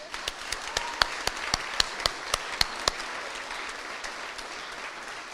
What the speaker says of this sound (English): Can we just get another round of applause for all of you?